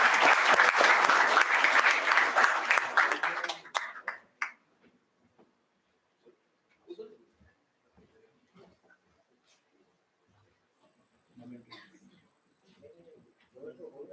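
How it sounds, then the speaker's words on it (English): Audience applause at a formal event honouring a guest with a planter, loud and sustained clapping from a crowd that stops abruptly around four seconds, followed by scattered faint movements, a few isolated claps and low murmuring. "With a big round of applause,"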